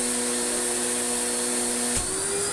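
An Electrolux Slimline Mk2 156 vacuum cleaner running close and loud, a steady motor drone with a whining tone from the hose that shifts pitch near the end.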